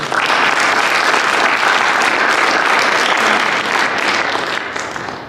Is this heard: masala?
no